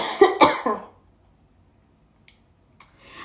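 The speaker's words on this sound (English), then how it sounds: "I'm going to have a coughing spell." A short burst of two or three harsh coughs comes right at the start, followed by near silence with a couple of faint clicks and a little rustle at the end.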